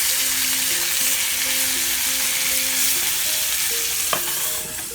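Sausage fries in a skillet with a loud, continuous sizzle, with a brief clatter as the pieces are turned partway through, and no voices.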